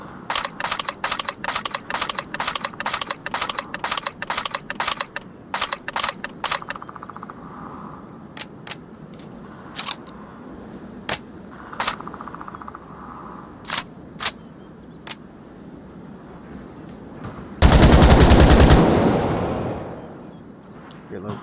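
A 7.62 PKM machine gun being reloaded, a run of rapid sharp metallic clicks followed by scattered single clacks and a brief loud rattling burst near the end, with speech around it.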